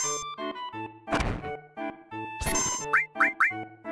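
A Dragon Bomb attack in the Final Fantasy 7 video game, heard as a run of synthetic tonal blips, two loud noisy blasts and a quick trio of rising chirps near the end, with no talking.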